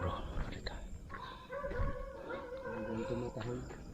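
A dog barks and yips a few times at middle distance, outdoors in overgrown brush, while people talk quietly over it.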